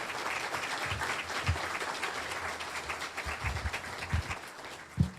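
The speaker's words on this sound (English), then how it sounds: "One more round of applause for our guest speaker today." Luncheon audience at a Kiwanis Patriots Day event applauding a guest speaker, a steady dense wash of clapping from many hands lasting several seconds, with a few louder individual claps standing out.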